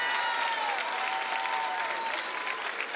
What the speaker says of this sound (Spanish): ¿Puedo pedir otro fuerte aplauso para las chicas de sexto año?